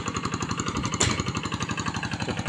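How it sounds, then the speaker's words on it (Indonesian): Kubota RD85-2S single-cylinder diesel engine on a G1000 hand tractor ploughing a wet rice paddy, chugging in a rapid steady pulse, close and loud, with a brief knock partway through and no talk. "Itu menggunakan traktor G1000 ya teman-teman. Untuk mesinnya mesin Kubota RD85"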